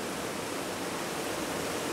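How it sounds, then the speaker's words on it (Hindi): Water rushing steadily at Sarfa Dam, a dense, continuous roar of flow that stays even and loud throughout with no voices. "पानी बिल्कुल धारा प्रवाह चल रहा है यहाँ पर"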